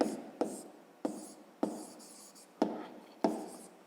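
A pen writes by hand on paper during a fifth-grade maths exercise, giving about six sharp strokes. Each begins with a tap and trails off in a soft scratch, close and fairly quiet.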